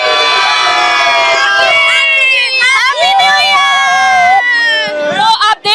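A New Year celebration crowd cheers and hoots loudly, with high rising and falling whoops and shouts layered over a busy background of voices, ending in a few sharp bursts.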